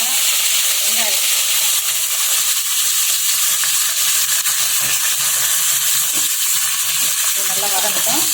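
Curry leaves, green chili and onion fry in oil for a sambar, giving a loud, dense, unbroken sizzle close by, with faint clinks and stirring scrapes.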